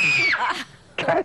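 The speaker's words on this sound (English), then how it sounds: "That's a pretty good scream." A person at a TV casting audition screams on request: a loud, high, wavering cry that slides downward over about half a second, then a shorter second burst of voice a moment later.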